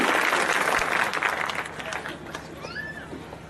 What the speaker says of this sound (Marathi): टाळी वाजून स्वागत करा सर